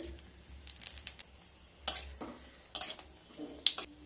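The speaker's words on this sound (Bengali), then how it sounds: "এবার দিয়ে দেব 2টো শুকনো লঙ্কা, হাফ চামচ 5 ফোড়ন।" Two dried red chillies and half a spoon of panch phoron sizzling in hot mustard oil in a kadai, a steady low crackle with scattered sharper pops and a few light utensil clinks, close and alone.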